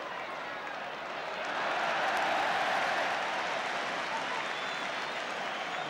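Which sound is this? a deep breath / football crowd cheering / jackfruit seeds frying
football crowd cheering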